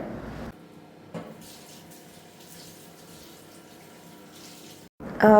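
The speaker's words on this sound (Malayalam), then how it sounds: "ഈ അരി കഴുകി നല്ലപോലെ കഴുകിയിട്ട് ഒന്ന് കുതിരാനായിട്ട് വെച്ച് കൊടുക്കുകയാണ്" Rice being washed in water for biryani, a continuous trickle and slosh of running water with brief louder splashes at the start and end.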